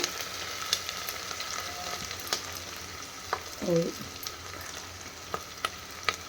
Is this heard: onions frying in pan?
yes